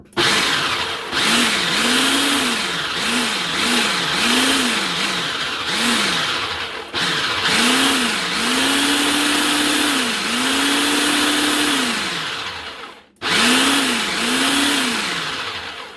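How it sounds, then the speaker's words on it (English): Food processor pulsing sugar into a New York City cheesecake mixture, loud motor bursts in a run of short pulses with a few longer whirs and brief pauses, no talking. "We're going to just put the sugar in, just going to pulse it a couple times just to mix it in"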